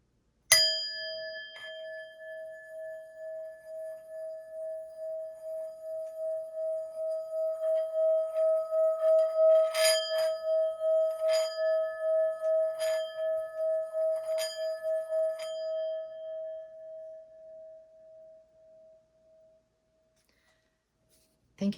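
A singing bowl, struck once, rings with a pure sustained tone that swells slowly with a pulsing beat as it is rubbed, picks up a few light metallic taps, then fades away over about twenty seconds, alone without talk.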